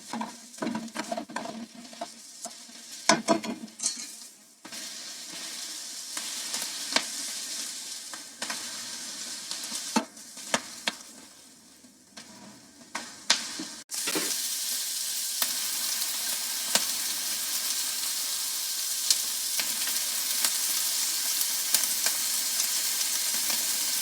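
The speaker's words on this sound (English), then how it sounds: "The frying sounds sound like water flowing." Food frying in a pan with steady broadband sizzle, first irregular with stirring clatter, then a continuous loud hiss like running water; red bean sesame balls, nian gao and sotanghon are being cooked for Lunar New Year.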